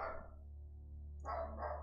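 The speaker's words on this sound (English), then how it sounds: "you guys hear the dread chihuahua barking?" A chihuahua barks in the background during a gaming stream, giving a short yap and then a couple of quicker yaps a moment later, faint and distant under a steady low hum.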